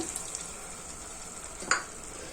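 Millet and fenugreek bath fries in a pan after a splash of water is added, giving a steady, close hiss and sizzle. A brief stirring scrape cuts through near the end.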